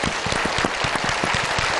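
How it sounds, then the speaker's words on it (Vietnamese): Studio audience applause on a Vietnamese picture-guessing game show, a steady, dense burst of clapping that fills the short moment without a break. "Một tràng vỗ tay để chúng ta kết thúc phần này."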